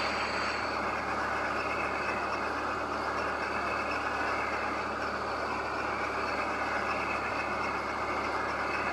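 A loaded vegetable truck pulling a small trailer labours uphill in a farming game, its engine droning at a steady, constant level with no breaks and no voices.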